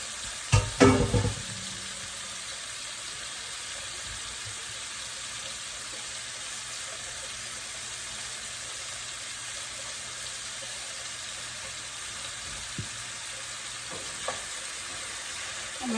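Pumpkin pieces frying in a pan, starting with a short clatter as they go in, then a steady, even sizzling hiss that carries on alone for the rest of the stretch.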